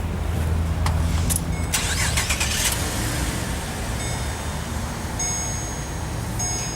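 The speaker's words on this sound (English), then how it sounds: "I'll quickly start the car up for you" A car engine cranks and catches, then settles into a steady idle with a few light clicks and a faint high whine.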